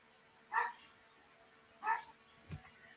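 A dog gives two short, high barks or yips about a second apart, then a soft low thump, faint and slightly distant in a quiet room.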